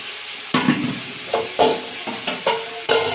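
Potato pieces go into a hot pan of cooked spice paste for a fish curry, giving bursts of sizzling and scraping stirs in an uneven rhythm, close and fairly loud.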